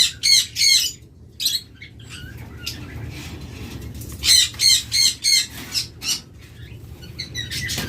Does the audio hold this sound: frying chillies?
no